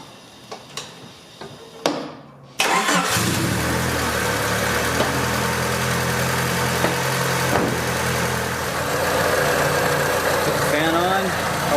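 A warmed-up supercharged Honda Civic EF engine idles steadily and close by after a few sharp clicks and a short silence, with a faint ticking rhythm in the even mechanical hum.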